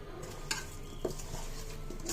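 Chicken being mixed by hand with turmeric, chilli powder, cumin, coriander, salt, chopped onion, green chillies and garam masala, giving soft, close squelching and rubbing with a couple of light knocks against a bowl over a low background hum.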